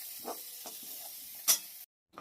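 Pressure-cooked dal is sautéed in a pan for a homemade veg dal. A few soft sizzles and stirring scrapes come at irregular moments, with one sharper hiss before the sound cuts off abruptly.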